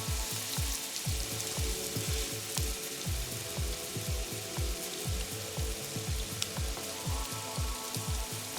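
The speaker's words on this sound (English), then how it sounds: "After seasoning the steak and inserting a meat thermometer, we seared both sides for 4 minutes." Steak searing in a Presto electric skillet, a steady crackling sizzle with a fine spattering hiss and a faint rhythmic ticking underneath, close and even throughout.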